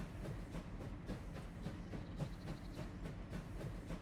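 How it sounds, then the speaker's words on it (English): An old-fashioned steam train in the Farming Simulator video game rumbles and hisses steadily, with a rhythmic chugging pulse, moderately loud and with no speech. "there's just something very, very satisfying about a good old-fashioned steam train"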